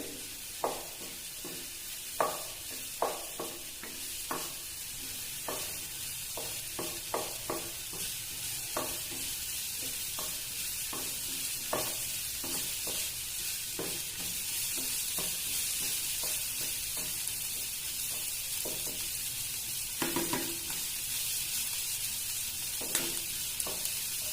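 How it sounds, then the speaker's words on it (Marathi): Green chili and cumin sizzle in hot oil as tempering for a Malvani fasting-style breadfruit vegetable, a steady close frying hiss broken by sharp spoon or spatula clicks against the pan, with no talking. "उपवासाची भाजी करताना मिरची आणि जिऱ्याची फोडणी द्यायची आहे"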